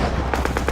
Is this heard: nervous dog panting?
no